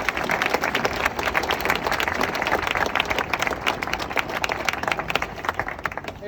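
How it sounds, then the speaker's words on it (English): Audience applause fills a briefing hall for The Unknown Race 2024 in Vienna, a dense, steady wash of many hands clapping close and loud for several seconds without pause. "Maybe a small applause for our work."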